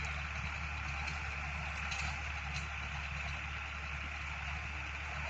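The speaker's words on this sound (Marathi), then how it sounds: "ट्रॅक्टर चालू केला हा का चालू आहे" A farm tractor's diesel engine runs steadily at idle, giving a continuous low throbbing drone with a faint hum above it, unchanged in level from start to finish.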